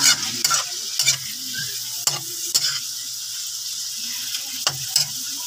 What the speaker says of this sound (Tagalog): atin na ihalo ang giniling